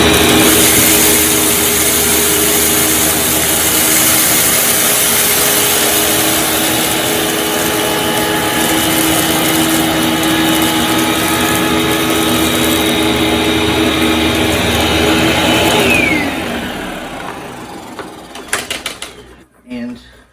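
Loud, steady roar of a Eureka AS3401 upright vacuum cleaner sucking up dirt, rice and salt, running continuously up close before powering down and winding off near the end with a few clunks.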